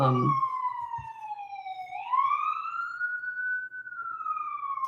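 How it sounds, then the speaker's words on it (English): An emergency siren wails, its pitch sliding down and then rising again as it passes nearby, with faint traffic noise underneath. "I'm just waiting for the siren to go past."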